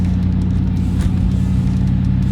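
A Pontiac Firebird III with a swapped 5.7 Chevrolet Camaro engine, a deep rumbling V8 burble, close and loud, with a throbbing low pulse holding steady.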